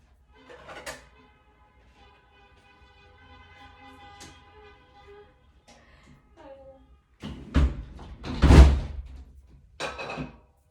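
A door or window is shut indoors: a few scattered knocks and faint background sounds, then a heavy thud and rattling clunk of it closing, followed by a softer knock.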